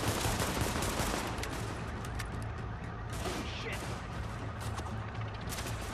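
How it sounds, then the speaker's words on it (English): Dense, continuous gunfire rattles in a co-op firefight in Tom Clancy's The Division video game, loud and sustained throughout with overlapping shots. A voice is faintly present underneath. "Am I getting shot at from behind?"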